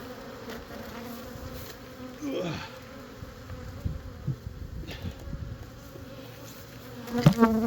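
Honeybees buzz around a hive as it is lifted off its floor, a faint steady hum with individual bees droning close past now and then and a few soft knocks.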